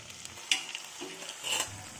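Chicken meat frying in a pan with jaluk pepper, quiet soft sizzling with a few brief stirring scrapes and clatters, close but faint.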